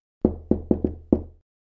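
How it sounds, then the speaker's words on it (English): Five knocks on a wooden door, close and distinct, in an uneven rhythm with a short pause before the last one. "he knocked on the door"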